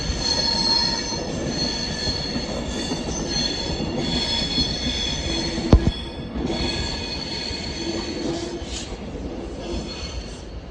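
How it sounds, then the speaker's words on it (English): A train rolls steadily along the tracks at Primrose Hill, London, with a continuous rumble and high metallic wheel squeal, a sharp clank near the middle, no voices. "This train is known as Progress."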